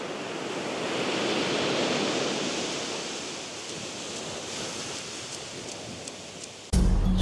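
Ocean surf washing onto a beach, a steady broad roar of waves swelling and fading with some wind noise, ending in an abrupt louder bump as if the microphone is handled.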